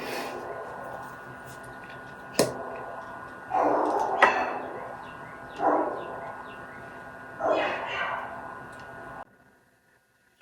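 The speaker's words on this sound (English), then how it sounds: "can you hear my rude dog is barking?" A dog indoors barks a few times in separate, spaced bursts, somewhat distant and muffled, against a steady background hum.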